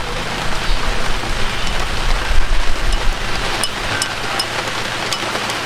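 Heavy rain pours down in a riverside countryside setting, a dense, continuous hiss of drops close by with no pauses.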